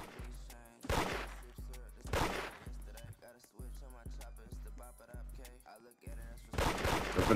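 Sharp gunshots ring out in the Roblox game Da Hood, coming in repeated bursts. Between the shots a voice talks, and the shooting stays loud and near.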